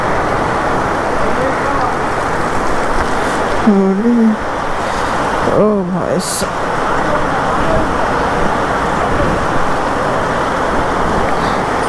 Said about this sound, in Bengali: বৃষ্টি ভাই দেখতে পাচ্ছ ইয়ার কেমন জোরে হচ্ছে